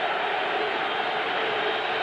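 A steady, broad roar from a football stadium crowd urging on the New York Jets defense in a 1991 game against the Houston Oilers, unbroken and fairly loud throughout.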